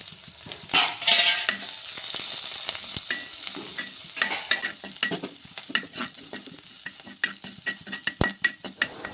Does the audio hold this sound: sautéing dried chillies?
yes